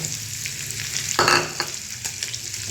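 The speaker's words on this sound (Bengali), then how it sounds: "বাটার গার্লিক তো, রসুনটা আপনাকে এর মধ্যেই ভাজতে হবে।" Chopped garlic fries in butter over a high flame for butter garlic prawns, crackling in a close, steady sizzle with a louder burst as the pan is stirred.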